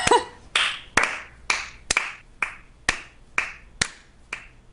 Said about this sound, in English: Can we all give TB a round of applause